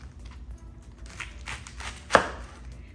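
A knife cuts down through a vegetable on a board while it is being quartered for vegan pho, a single sharp chop standing out near the end after a few softer handling sounds.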